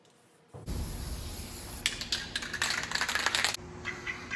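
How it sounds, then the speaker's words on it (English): A steady hiss of spray paint from an aerosol can in a workshop, continuous for several seconds with bursts of brighter spraying near the end, close to the listener. "So I'm going to make sure it's painted now."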